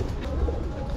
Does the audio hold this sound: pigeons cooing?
yes